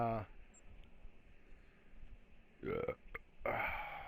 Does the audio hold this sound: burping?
yes